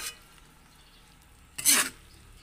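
Pako fern and sardines stirred in a pan: a quiet background hiss, then one short, louder scraping stir near the end.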